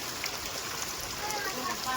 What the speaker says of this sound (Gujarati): કલાક જેવું થઈ ગયું વરસાદ ચાલુ છે